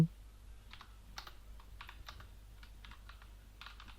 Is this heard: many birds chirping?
no